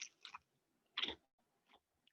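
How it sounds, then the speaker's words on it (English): Crisp bites into a samosa topped with chutney, a few short close crunches and chewing bursts separated by quiet gaps. "Can you hear the crunch?"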